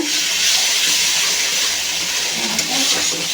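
Broad bean seeds sauté with spices in a pan, giving a loud, constant hissing sizzle with a brief sharper crackle near the end and no talking.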